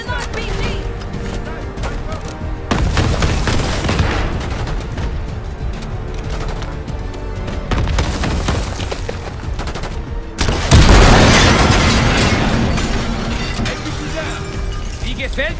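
Call of Duty Black Ops 6 battle: rapid bursts of automatic gunfire and sharp reports, then a heavy RPG blast near the eleven-second mark that booms and rolls off, loud and close with voices talking amid the firing.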